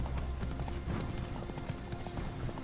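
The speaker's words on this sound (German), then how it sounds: "Mit Galopp." A horse gallops in The Witcher 3, its hooves drumming in a quick, rhythmic clip-clop at moderate distance over a soft background bed.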